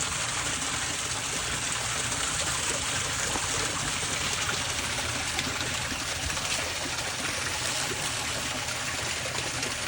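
Steady rushing water from a waterfall near a stream, an even broadband roar holding at constant loudness throughout with no talk.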